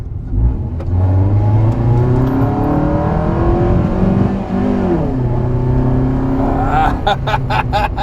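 A car engine with a faulty VVT sensor revs up close, its pitch climbing and then dropping back before rising again, with a few sharp clicks near the end.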